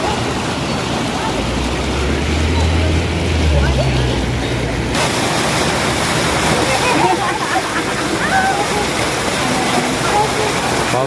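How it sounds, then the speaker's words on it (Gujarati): Water from a lit fountain in Waterloo Park tumbles down like a stream, making a steady, loud, broadband rush that fills the whole clip, with muffled voices at times. "આખું પાણી એકદમ ઝરણાની જેમ પડે છે."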